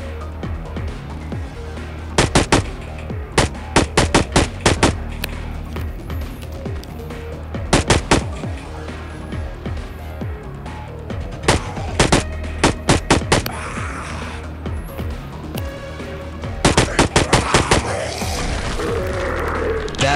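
Zombie video game gunfire: bursts of sharp shots in clustered volleys, separated by short gaps over a steady background rumble, loud and close with no talking.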